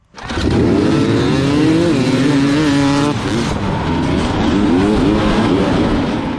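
Hard enduro dirt bikes race at the SEER Saddleback Xtreme event in Bedford, Kentucky, with a loud, close two-stroke engine revving and rising and falling in pitch almost without a break, plus brief lulls and rough off-road strain.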